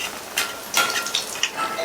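Rava sweet appam batter hits hot oil in a pan on a low flame, giving short bursts of soft sizzling that come and go in quick succession.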